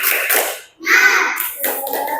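Schoolchildren in an Indonesian classroom perform the tepuk semangat chant, with sharp rhythmic hand claps alongside their voices in a close, lively burst that pauses briefly before resuming.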